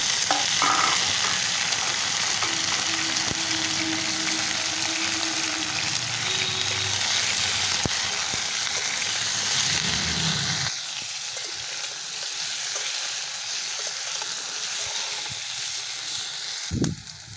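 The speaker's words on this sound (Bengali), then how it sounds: "আমি সবজিগুলো একবারেই দিয়ে ভেজে নেব" Potato, pointed gourd, pumpkin and Malabar spinach fry together in a pan, giving a steady close sizzle with stirring scrapes that later quiets to a softer crackle, ending with a sharp clatter.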